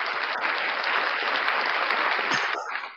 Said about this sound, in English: Let me give myself a round of applause for that.